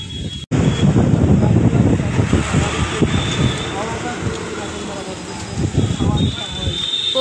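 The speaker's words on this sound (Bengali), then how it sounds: "প্রকৃতি প্রচুর হাওয়া দিচ্ছে।" Strong wind sweeps across a large open lake, a loud, continuous roaring rush buffeting the microphone, with a brief dropout near the start.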